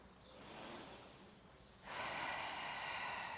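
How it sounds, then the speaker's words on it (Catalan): Deep breath drawn in as part of a guided relaxation exercise at a conference talk, a soft airy inhale that swells, then a louder, fuller rush of air close to the microphone. "I ara fem una cosa. Respirem 2 vegades."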